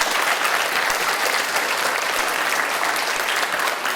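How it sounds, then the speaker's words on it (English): Steady, dense applause from a crowd, loud and continuous for the whole stretch with no talking over it. "a big round of applause"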